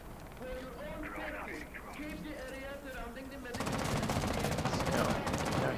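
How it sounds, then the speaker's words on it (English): Gunfire in Rainbow Six Siege during an ESL Pro League Xbox One match, with the Bandit operator shooting toward two windows. Bursts of shots grow louder and denser toward the end, heard under steady talk. "Bandit missing a lot of important shots here, firing in towards both of these windows now."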